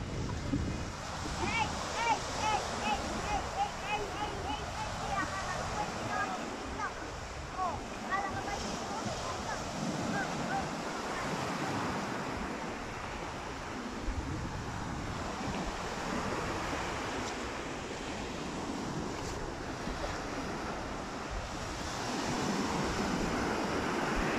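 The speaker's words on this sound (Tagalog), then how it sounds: "Ganda po ng dagat" Sea waves wash onto the shore at Infanta, Quezon, a soft, continuous surf hiss with wind buffeting the microphone, while voices talk faintly over it at times.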